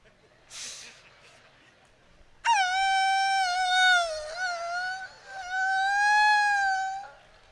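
A human voice imitates a female dog crying in winter. After a short breathy sound comes a long, high-pitched, wavering whine that holds for several seconds, close and clear against quiet.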